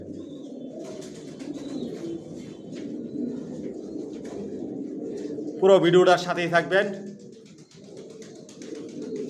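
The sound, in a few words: racing pigeons cooing in a loft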